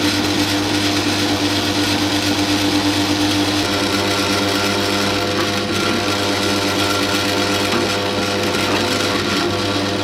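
A press drill cuts a hole through a standard 6-inch orange plastic drain pipe, giving a loud, steady motor whine with a grinding cutting rasp that runs throughout without a break.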